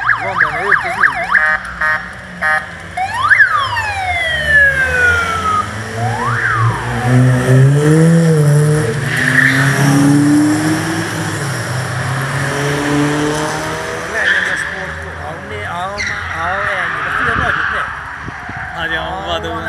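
A Chrysler rally car drifts and slows through a corner at a rally sprint in Carei, engine note rising and falling at a distance under crowd noise and people chatting nearby.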